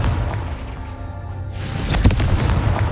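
A Confringo fire spell in Hogwarts Legacy erupts halfway through as a loud close boom with sharp cracking impacts, following a low humming rumble, and stays dense and noisy to the end without any speech.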